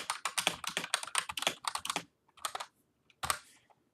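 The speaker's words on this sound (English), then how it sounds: "typing" Rapid clicking of computer keys in a quick burst, then a pause and a few more scattered keystrokes, close and clear with no talking.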